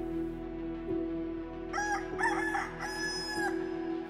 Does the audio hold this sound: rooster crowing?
yes